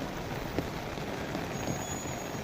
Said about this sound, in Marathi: हे बघा किती मस्त पाऊस पडतोय बघा.